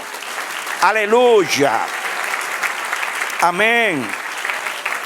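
A church congregation breaks into loud, continuous applause for the Lord while voices call out exclamations over the clapping, which keeps going throughout.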